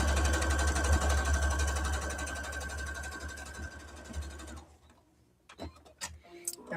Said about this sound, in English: we're going to go ahead and sew straight line